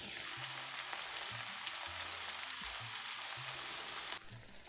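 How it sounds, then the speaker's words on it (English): Browned beef with olives coated in tomato sauce sizzles steadily in a pan, with soft intermittent stirring scrapes under a constant frying hiss that drops off near the end. "I added 3/4 of a cup of tomato sauce to the mix and stirred until the beef was completely coated."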